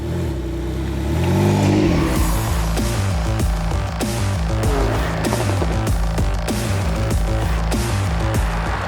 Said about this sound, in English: this is the 2017 Porsche 911 Carrera GTS